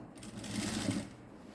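A sewing machine runs long stitches to set pleats in a skirt made from an old silk saree, giving a brief, soft, rapid mechanical whir heard alone.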